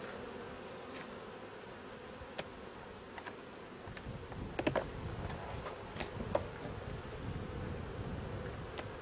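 Honeybees hum steadily around an opened hive as the queen excluder is lifted during a summer honey harvest, a dense continuous drone with a few faint clicks and ticks over it.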